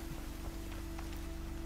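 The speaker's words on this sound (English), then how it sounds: "Okay, so it's raining, it's pouring." Rain falls in the video game Horizon Zero Dawn, a soft, even patter of drops on a surface sitting under a steady low tone and hum, brief and fairly quiet.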